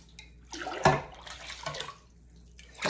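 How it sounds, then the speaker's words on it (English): Hot water poured into a vat of cheese curds to wash them while making Butterkäse, a splashing pour that surges several times, loudest near the start, and then picks up again at the end. "I'm gonna put as much hot water in as I removed whey"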